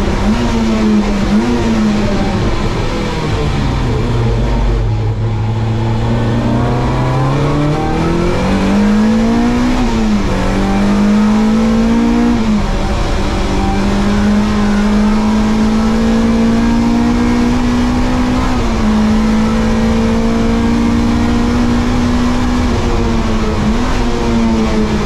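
BMW E30 M3 touring cars racing on a circuit, a loud close engine note that holds high revs with rises and dips through gear changes, running nonstop.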